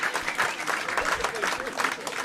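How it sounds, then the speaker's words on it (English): Comedy club audience at Zanies Chicago breaks into applause during a stand-up set, a fairly dense, uneven patter of clapping with crowd noise swelling and dipping across two seconds. "clap for that"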